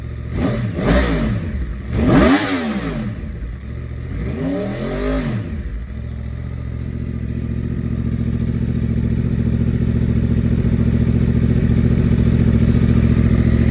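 A Yamaha R1 sport motorcycle engine, previously starved for fuel by a kinked fuel line and now fixed, revs hard three times past 10,000 rpm, rising and falling sharply, then settles into a steady, loud idle.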